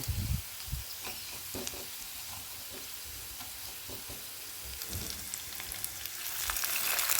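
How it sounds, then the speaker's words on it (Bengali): Cumin seeds tempering in hot oil with fried onions in a pan for a curry, a soft steady sizzle with scattered crackles and low stirring thumps, fairly quiet and without voices. "মাঝখানে আমি একটু জিরা ফোড়ন দিয়ে দিই"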